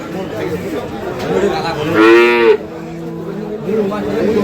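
Dairy cows at the Kaharol cattle market in Dinajpur give one loud, drawn-out moo near the middle, with a low murmur of market chatter around it.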